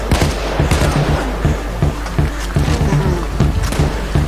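Rapid gunfire from the heist shooter PAYDAY 2, a steady burst of closely spaced shots running the whole length, loud and busy, with a faint voice now and then.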